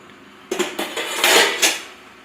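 Dishes, pots and cutlery clatter and clank as they are washed during home cooking, a quick run of close, fairly loud knocks and scrapes over about two seconds with no talking.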